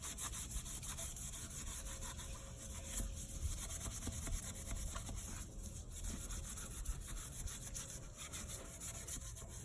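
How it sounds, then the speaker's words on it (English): Scuffing a car wheel by hand to prep it for black paint, an Infiniti G37 wheel; a steady continuous rubbing and abrading texture runs throughout at an even level, close up, with no talk. "Scuff everything to the best of your ability."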